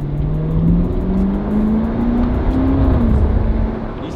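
A new car's engine hums steadily after being switched into sport mode, a continuous muffled drone with slowly rising pitch heard from inside the cabin, with no talk.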